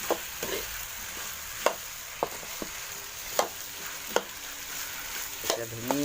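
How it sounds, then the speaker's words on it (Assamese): Cauliflower and potato pieces being stirred through a frying chicken curry in a pan, a soft steady sizzle with intermittent scraping strokes of the spoon, close and fairly quiet with no talking. "এতিয়া লৰাই দিব লাগিব এতিয়া খুব ধুনীয়াকৈ লৰাই দিব লাগিব"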